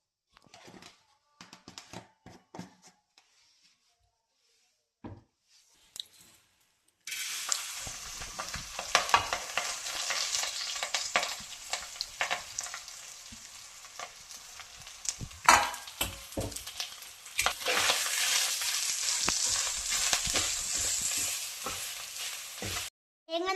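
Coriander, pepper, curry leaves, chili and cumin roast in oil in a pan: a few sparse scrapes and clicks first, then a steady loud sizzle with stirring scrapes running throughout, close up and with no talking.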